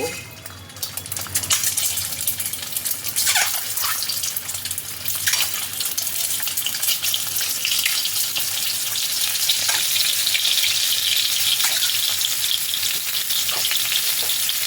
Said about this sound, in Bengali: এবার ওই তেলের মধ্যে ডিমগুলো দিয়ে দেব